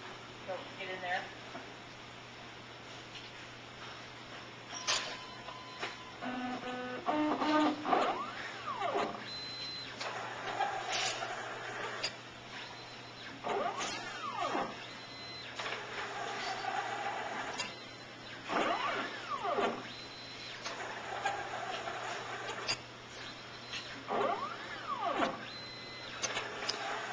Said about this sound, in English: Start it so that arm's going to move.